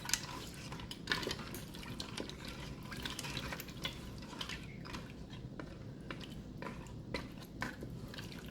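Regular lasagna noodles get stirred around in a Ninja Foodi or Instant Pot, quiet scraping and clinking of a utensil against the pot with soft liquid sloshing, repeated in irregular strokes.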